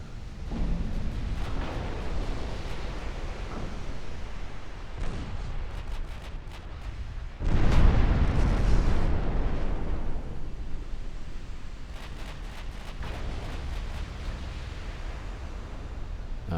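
Secondary guns of dreadnought battleships fire in a naval battle in Ultimate Admiral Dreadnoughts, a constant rumble of distant booms with a heavier burst of blasts midway, unbroken by speech.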